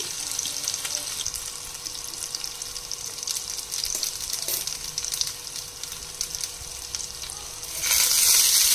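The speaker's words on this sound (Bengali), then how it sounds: "এবার এর মধ্যে আমি দিয়ে দেবো সামান্য পরিমাণে একটু কালো জিরে ফোড়ন।" Nigella seeds crackle and sizzle in hot oil for tempering, a close steady frying hiss that swells louder near the end.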